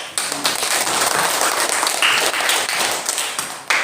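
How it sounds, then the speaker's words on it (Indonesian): Classroom students applauding at the teacher's request, a dense wash of many hands clapping at steady loudness throughout, close and filling the room. "Tepuk tangan dulu."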